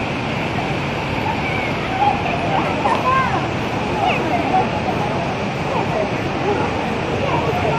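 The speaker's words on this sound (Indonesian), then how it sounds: "Air terjun" Wulai waterfall pours with a loud, constant broadband rush of falling water, while crowd voices murmur beneath it.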